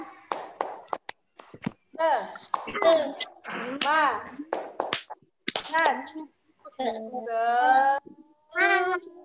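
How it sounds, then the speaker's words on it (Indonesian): Schoolchildren in an Indonesian primary class perform the tepuk semangat clapping chant, sharp hand claps and slaps rising between bursts of lively young voices calling out together, near and loud. "Coba kita tepuk semangat. Tepuk semangat."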